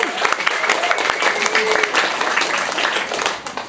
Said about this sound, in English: round of applause for Jane